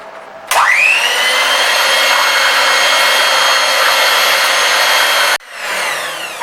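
An electric mixer beats eggs into creamed butter and sugar for cake batter. It kicks in abruptly with a loud, steady, high motor whine that holds for about five seconds, then cuts off and leaves quieter kitchen background.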